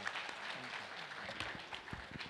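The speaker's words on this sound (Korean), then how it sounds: "여러분 박수 한번 보내주십시오." Faint, scattered applause from a conference keynote audience at a biotech industry event, a soft, uneven patter of hand claps from a distant crowd.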